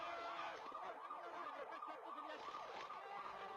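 An ambulance siren wails in a rapid, repeating up-and-down cycle, fairly faint and slightly distant, with no talk over it.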